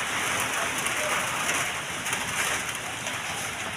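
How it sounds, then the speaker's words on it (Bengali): Heavy rain pours steadily, a dense continuous hiss with no pauses and no talking. "এই যে বৃষ্টি হচ্ছে কিন্তু অনেক জোরেই বৃষ্টি হচ্ছে"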